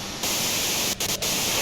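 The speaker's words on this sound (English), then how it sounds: "you can do it through the white noise" Harsh radio white-noise static from the video game Disco Elysium fills the whole clip as a loud, continuous hiss, briefly dipping twice near the end.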